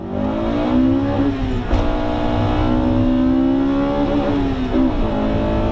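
A Honda Integra Type R engine revs hard and steady toward 9,000 rpm, its pitch climbing and dipping between gears, loud and close with no voices.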